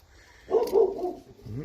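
A dog gives a short, close muffled bark followed by a brief whine, heard in a quiet garage-like setting.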